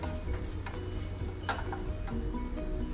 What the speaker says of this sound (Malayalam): എന്നിട്ട് നന്നായിട്ട് വഴറ്റിയെടുക്കുക.